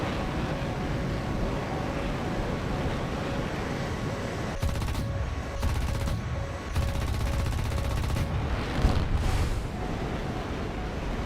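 Mirage F1 jet cannon in a flight simulator video game fires three rapid rattling bursts, each a second or more long, over a steady engine whine, with short gaps between them.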